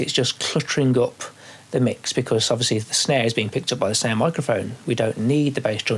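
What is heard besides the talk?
None of the usual background noises is heard.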